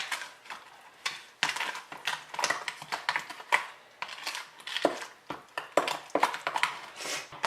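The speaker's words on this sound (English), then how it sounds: "we're just going to mix all that up" Pumpkin pie filling is stirred by hand in a bowl, with rapid, irregular clinks and scrapes of a utensil against the bowl coming in quick bursts at close range.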